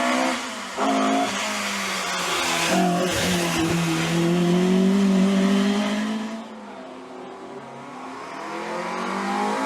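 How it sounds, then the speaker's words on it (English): A historic rally car on the Somerset Historic Stages Rally climbs a slippery hill. Its loud engine revs and strains, with brief popping backfires in the roar, then eases as it pulls away. "Backfiring up the hill was Julian Birch."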